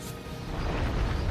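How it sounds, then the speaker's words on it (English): A rocket launcher fires in the video game Death Stranding 2, a loud, dense blast of rumbling noise that swells and roars on throughout the moment. "Behold the power of a fucking rocket launcher."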